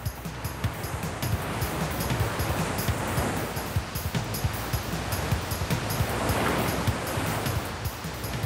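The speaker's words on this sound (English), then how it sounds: "As the water roars around the huge boulders and bends in the river, it creates treacherous whirlpools." A jungle river rushes down from the highlands and roars around huge boulders and bends. The loud, continuous turbulent wash runs without a break, with no voices.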